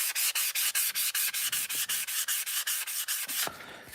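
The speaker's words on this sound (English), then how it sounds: "What we'll do is get the sanding pad." Sanding pad rubbed over a plastic Airfix Concorde model kit, a steady series of about twenty rhythmic close-up scraping strokes, loud and even, then a brief softer pause at the end.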